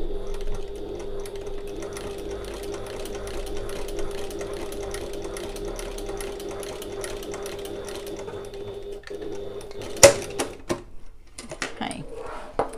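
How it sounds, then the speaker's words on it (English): A sewing machine stitching an adjustable strap for an oval bag, a steady rapid mechanical chatter with a constant hum for about nine seconds, then it stops and a few clicks and handling knocks follow. "So I'm just going to stitch this into place."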